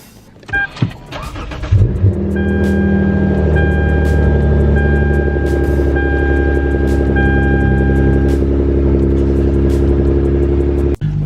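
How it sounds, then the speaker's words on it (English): A Lexus IS350 cold-starts: a brief clattering starter crank, then the engine catches and settles into a loud, steady, high idle that holds to the end. "Let's do a quick little cold start."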